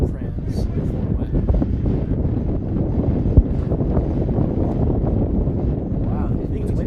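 Steady wind gusting across baseball stadium bleachers during a Kansas vs Oklahoma game, a constant low roar buffeting the microphone throughout, with voices talking over it.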